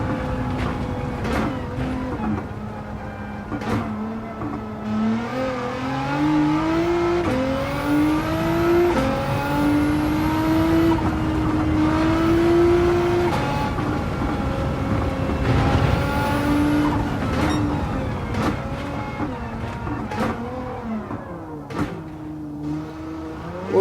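A Nissan GT-R's racing engine in Gran Turismo 7, loud and close, revving up through gears in rising sweeps with shifts, easing into corners and climbing again, with brief tire noise.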